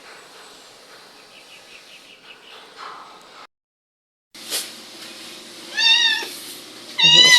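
A pet cat meows several times near the microphone, the rising cries growing louder toward the end, after a quieter stretch of faint background chirping and a brief silence.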